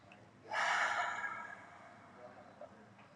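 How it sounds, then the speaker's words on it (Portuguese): One deep, slow inhalation during a calm guided meditation, close and breathy, swelling quickly and then easing off gradually into near silence. "Traz mais uma respiração bem profunda."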